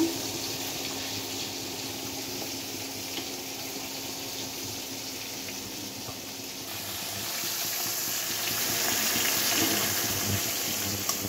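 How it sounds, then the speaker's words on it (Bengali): Potatoes boiling with beans in a pot of water give a steady, fairly loud bubbling hiss that swells slightly toward the end, with no talking. "এটা ফুটিয়ে ভালোভাবে সেদ্ধ করে নিচ্ছি।"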